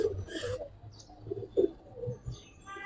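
Giribaz pigeons cooing in a loft, low soft coos recurring through a few seconds along with some higher chirps and brief wing or movement sounds, close and moderately faint with no talk.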